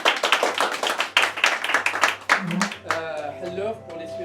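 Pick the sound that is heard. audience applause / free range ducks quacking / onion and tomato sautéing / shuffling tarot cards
audience applause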